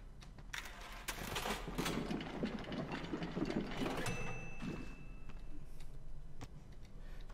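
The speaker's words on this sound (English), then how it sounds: "Put that in the machine and I get it to print the gear." Bendy and the Ink Machine's ink machine prints a gear with a steady mechanical whir and rumble, scattered clicks and clanks, and a brief high electronic tone partway through, with no voices.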